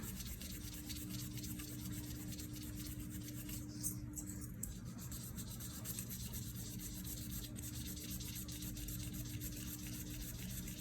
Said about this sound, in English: Take a polishing pad, clean it off a little bit more.